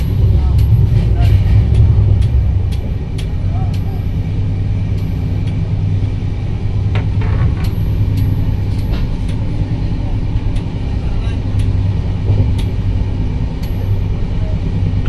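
Steady, loud rumble of a train rolling over a bridge, a continuous low roar with rattling undertones and occasional faint clanks, sustained throughout without pause.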